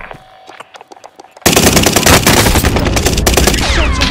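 Loud, continuous machine gun fire in Call of Duty Warzone Pacific, a dense stream of rapid shots erupting after a quieter stretch and holding steady to the end.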